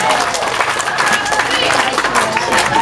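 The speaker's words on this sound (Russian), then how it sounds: "И такие же друзья, аплодисменты." A festival audience applauds in a hall, a steady, dense wash of clapping running the whole time at fairly close range, with a faint hum of crowd noise beneath it.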